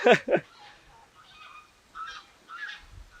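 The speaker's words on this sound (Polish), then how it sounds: "No właśnie gęsi mnie witają" Two loud goose honks open the clip in a park on Madeira, followed by fainter, more distant honking calls from other geese.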